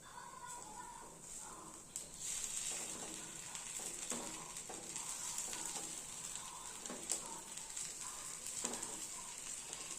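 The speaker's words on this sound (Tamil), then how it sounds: "எல்லா குழியிலும் இது மாதிரி ஊற்றிக்கலாம் நம்ம பணியாரம் வெந்துக்குச்சு திருப்பிக்கலாம்" Ragi paniyaram batter sizzles in the hollows of a paniyaram pan, a soft steady frying hiss with occasional light taps and scrapes, quiet and close, no voices.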